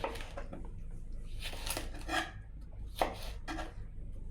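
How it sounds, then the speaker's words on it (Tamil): Okra sliced into pieces with a knife on a board, giving soft, repeated thuds and cuts at an uneven pace, faint and close, with no voices. "இந்த மாதிரி எல்லா வெண்டைக்காயும் என்ன பண்ண போனால் ஒன் பை ஃபோராக கட் பண்ணிக்க போகிறோம்"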